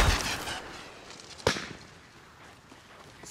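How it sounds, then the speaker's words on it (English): A smoke grenade thrown in Call of Duty Warzone on Rebirth Island gives one sharp, close pop partway through, standing out over a low, noisy game background with no one talking. "Throwing smoke!"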